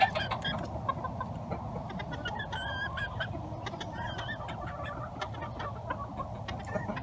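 Polish chickens and a rooster clucking on a farm, a flock of repeated close clucks and squawks over a steady low background, with no talking.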